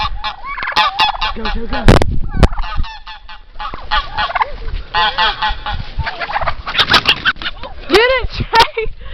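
A rooster squawks and cackles repeatedly while being chased around, its loud, close calls mixed with excited shouting from people.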